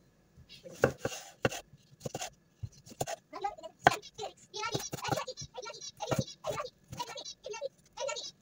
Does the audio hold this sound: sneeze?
no